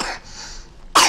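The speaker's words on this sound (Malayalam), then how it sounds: "ചുമയുണ്ട്, സദയം ക്ഷമിക്കുക" A single person coughs near the microphone, two sharp bursts at the start and end separated by a quiet, breathy pause.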